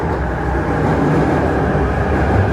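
An MTR K-train rolls through Lai King Station in a steady, loud rumble with dense low-frequency rail noise and no talk, holding constant across the whole stretch.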